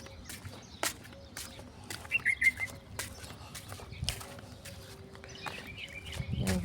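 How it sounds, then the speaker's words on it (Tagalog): Birds at a beach give scattered chirps and short calls against faint background noise, with a brief cluster of higher tweets midway and occasional knocks and rustles nearby. "O may mga ibon."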